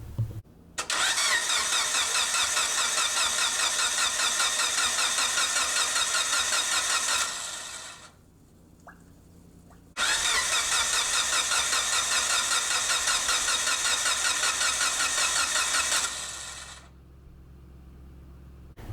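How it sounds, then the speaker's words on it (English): A Mitsubishi Evo 9 engine is cranked without starting to prime its turbo with oil, two long bursts of rapid, loud starter whirring of roughly seven seconds each, separated by a quiet pause. "crank the car for about 10 seconds or so, and do that a few times just to get oil in there"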